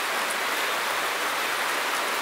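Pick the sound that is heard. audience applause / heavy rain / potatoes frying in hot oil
heavy rain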